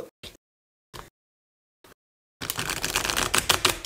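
A thick deck of cards being shuffled by hand, a few brief soft taps at first and then a dense, continuous crisp riffling rush up close.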